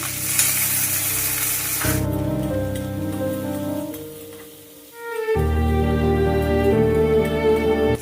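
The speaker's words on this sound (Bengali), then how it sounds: "এবার আমি কিছুটা কাজু আর কিছুটা কিশমিশ একটু ভেজে নেব" Cashews and raisins frying in hot ghee, a bright hissing sizzle that is loud at first and then continues beneath prominent sustained music.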